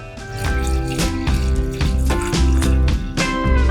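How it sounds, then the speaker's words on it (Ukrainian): One litre of water poured into a saucepan, a loud, close, continuous splashing pour with bubbling, gurgling tones that shift as the pan fills, and no speech. "беремо один літр водички, наливаємо в кастрюлю"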